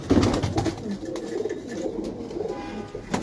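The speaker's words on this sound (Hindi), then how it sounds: "जबरदस्त कबूतर है माशाल्लाह।" Pigeons coo softly in a rooftop loft in Karachi, several low repeated calls mixed with wing flutters and faint movement nearby.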